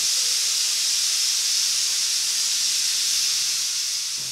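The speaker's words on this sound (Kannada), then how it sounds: "ಈಗ ಕುಕ್ಕರ್ 2 ವಿಜಿಲ್ ಹೊಡೆದು ಆರಿದೆ ಚೆನ್ನಾಗಿ ಕುಕ್ಕರು" Kannada kitchen pressure cooker cooking tomato bath on a medium flame, letting off a loud, steady, continuous hiss of escaping steam that holds evenly for several seconds and eases slightly at the end, with no voices.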